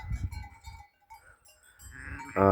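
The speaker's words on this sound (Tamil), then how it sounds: "இங்கே கூடுதலாக செம்மறி ஆடுகள்லாம் சாப்பிடுவாங்க" Sheep grazing in the Italian mountains bleat in a wavering, nasal call at moderate distance, followed by a quiet pause and a louder, rising bleat at the end, with faint rustling underneath.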